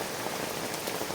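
Heavy rain drums steadily and densely on the fabric of an Airsecond 4.2F&B inflatable folding camping caravan during a strong storm, a close, continuous hiss with no voices.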